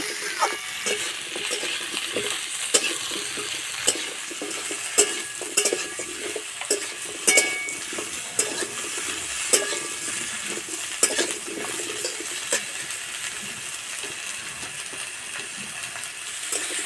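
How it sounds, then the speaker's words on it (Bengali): Mixed vegetables frying slowly in a pan over low heat, with a steady soft sizzle broken by frequent scraping and clinking of a spatula stirring them, close and continuous throughout with no talking. "এবার সবজিগুলো সব দিয়ে দেবো। হালকা আঁচে ভালো করে ভেজে নেব।"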